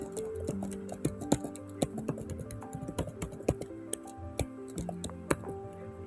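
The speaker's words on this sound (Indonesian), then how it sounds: "Kita ketik dulu." Typing on a computer keyboard, close clicky keystrokes in irregular bursts and pauses, fairly quiet with a faint tonal background underneath.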